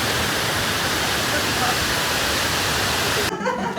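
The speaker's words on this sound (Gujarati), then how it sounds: "જો પાણી પડે." Falling water roars in a dense, unbroken wash close by, then drops away abruptly near the end.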